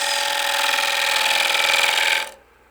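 A woodturning tool makes a small cut into end grain on a lathe, giving a steady, close scraping hiss that lasts about two seconds and then stops abruptly.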